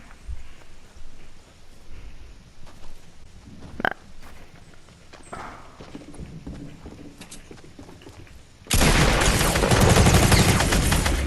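Gunfire in Fortnite Battle Royale: scattered shots and bursts over busy game noise, ending in a loud, sustained roar of sound during the last few seconds, with no talking.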